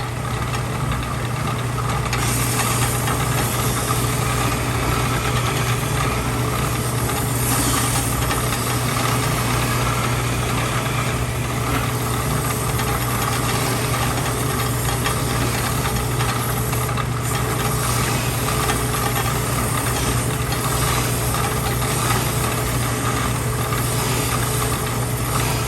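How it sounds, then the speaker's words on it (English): A power sander works down a wooden top piece, giving a loud, continuous motor drone with a steady hum and grinding hiss that holds unchanged throughout. "I'm going to sand this top piece down so that I no longer have that blue line."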